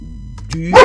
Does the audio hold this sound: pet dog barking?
yes